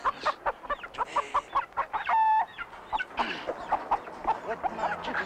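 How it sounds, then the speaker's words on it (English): Several farm chickens cluck close by in a busy, steady stream of short calls, with one brief crowing note partway through and no talk. "I'm going to sell my chickens today."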